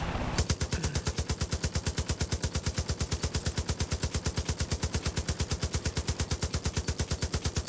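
Sustained rapid automatic gunfire in the video game Far Cry 5, a loud, even stream of closely spaced shots that continues without pause.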